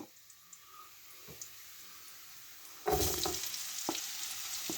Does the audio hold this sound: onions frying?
yes